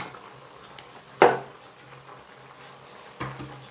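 Eggplant and zucchini pieces drop into a nearly full pot of vegetable stew, giving two separate soft clattering thuds over a quiet kitchen background.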